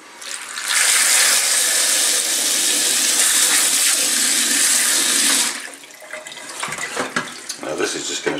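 Salted onions for pickling get rinsed under running water, a loud, steady gushing stream for several seconds that cuts off, leaving splashes, drips and handling noises.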